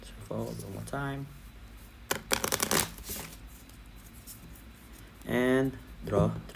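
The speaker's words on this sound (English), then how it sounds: "Great, shuffle one more time." A deck of Skytear Horde game cards gets one quick, close riffle shuffle lasting about a second, with a person speaking briefly before and after it.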